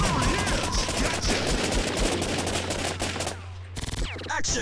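Rapid gunfire from the Time Crisis arcade shooter rattles continuously and loudly in dense bursts, briefly dipping before a few final shots, with game music underneath.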